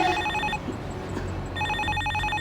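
A telephone ringtone sounds in two short bursts separated by a brief gap, fairly faint against quiet room background.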